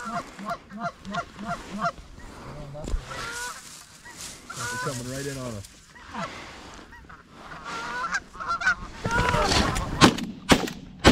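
Geese honk repeatedly during an evening goose hunt, their calls close and clustered early on, followed by several sharp shotgun blasts near the end, with some people speaking in between.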